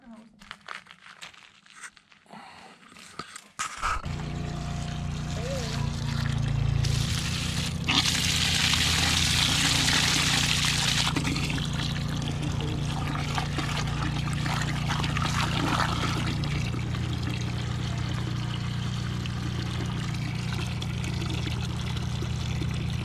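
Steady rushing pour of water into a bucket holding dirt, continuous for many seconds after a quiet start, with people talking over it.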